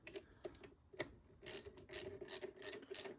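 A ratchet with an 8mm socket tightens a lower intake manifold bolt on a 1995 Ford Mustang. It makes a close, quiet run of rapid clicking strokes, first a few separate clicks and then several quick bursts.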